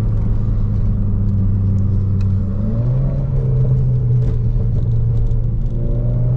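A Renault 4 RS Trophy pulling hard in second gear, its engine droning low and loud from inside the cabin, the pitch climbing with a brief dip partway as it accelerates, with a faint rattle over the rumble.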